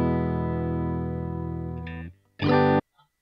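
A dry electric guitar lead line with no delay or reverb, sustained notes ringing for about two seconds and then cutting off cleanly, followed by a short loud phrase that stops abruptly with no tail.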